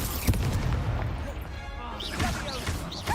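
Confringo blast spells from the video game Hogwarts Legacy, a dense run of booming, crashing impacts with rumbling low end and several sharp whooshing bursts near the end, loud and continuous amid battle noise.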